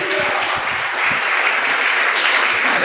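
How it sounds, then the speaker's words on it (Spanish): A congregation at a church service breaks into sustained applause, dense steady clapping filling the room at full volume from start to finish with no voices on top. "dese un aplauso"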